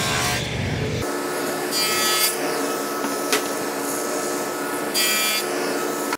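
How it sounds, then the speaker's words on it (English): A wooden frame rail for a sideboard is hand sawn to length, giving close, loud, rasping rhythmic strokes with a few brighter bursts and a sharp tick, and no voices. "this is the line that I'll cut to length"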